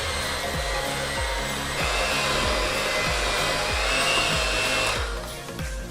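An electric hand mixer whirs steadily while beating mango cake batter with milk, its beaters knocking against the bowl in a regular rhythm before the motor eases off at the end.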